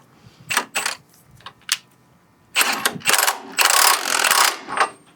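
Tightening a bolt on the front shock of a 2004-2008 Ford F150 2WD, with a Bilstein 4600 shock: a few short separate clicks, then dense bursts of rapid ratcheting, close and fairly loud.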